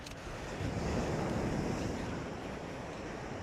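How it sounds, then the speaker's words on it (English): Big ocean waves roll onto the beach at Tavira Island, Portugal, a steady loud wash of surf mixed with buffeting wind noise on the microphone, with no voices. "They do get some big waves here"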